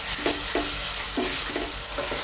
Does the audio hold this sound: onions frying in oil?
yes